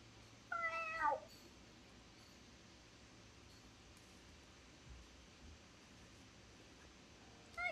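A person imitates a cat with a short run of high, wavering meow-like cries near the start, fairly close, then mostly quiet low background hiss.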